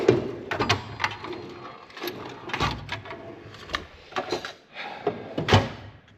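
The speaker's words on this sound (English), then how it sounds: "Still open the wrong drawers every time" Metal drawers of a toolbox owned for fifteen years slide open and shut repeatedly, giving close, sharp rattling clacks and rolling scrapes in quick irregular bursts with brief pauses between.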